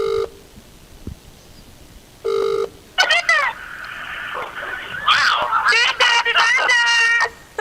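Telephone dialing tones from a call to a show's phone number sound as two short beep bursts, followed by warbling, chirpy electronic sounds.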